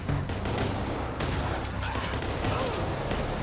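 Heavy gunfire breaks out in a movie scene where a car speeds toward camp gates in a shootout with soldiers. Dense, overlapping bursts of shots and bangs continue for several seconds, with no talk.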